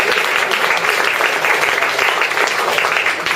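Audience applause for a stand-up comedian at a Christmas comedy showcase in a Warsaw studio, a dense, steady burst of clapping lasting a few seconds, loud and close.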